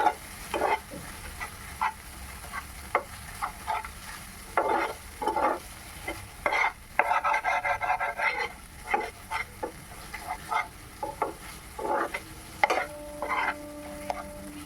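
Masala with salt and turmeric being fried and stirred in a pan for a rohu poppy-seed curry, with close scraping strokes coming in irregular bursts over a low, steady sizzle.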